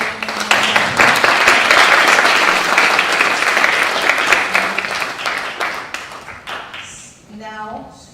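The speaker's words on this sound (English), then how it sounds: "can we have another round of applause for these two ladies?" An audience at a Christmas Eve program at the Vedanta Society in Berkeley gives a round of applause for two ladies: loud, dense clapping that swells, holds, then thins out to scattered claps and fades.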